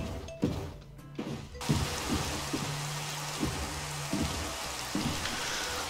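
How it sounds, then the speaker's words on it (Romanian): Steady heavy rainfall hissing continuously, with intermittent thudding knocks against the surface and no voices. "să intru mai repede că mă topește ploaia"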